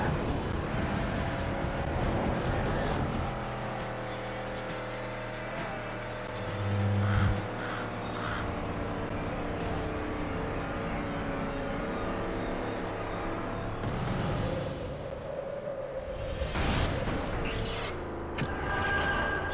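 Cars in the Hot Wheels World Race game roar with shifting engine pitch, tire squeal and skidding, then a car rolls and lands with thumps amid the engine noise, all without talk.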